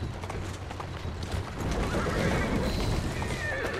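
A horse in Assassin's Creed Syndicate gives a brief whinny over a dense bed of street ambience and hoof clatter, fairly faint.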